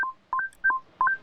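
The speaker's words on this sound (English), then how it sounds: "That sound is me with my mute button" A streamer's mute button sounds a short sequence of electronic tones, three quick two-note beeps like phone dialing, clean and close with silence between.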